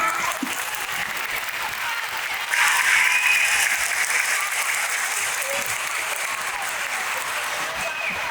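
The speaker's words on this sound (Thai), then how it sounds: "ขอเสียงปรบมือเป็นกำลังใจให้นักแสดงด้วยค่" An audience applauds the actors of a moral-tale stage play, a steady wash of clapping that swells slightly a few seconds in and continues evenly.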